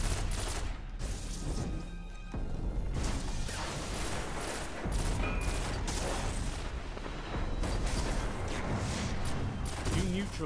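Shotgun fire in a fast-paced multiplayer video game, with repeated loud blasts and bursts of gunfire running through dense, continuous in-game combat noise.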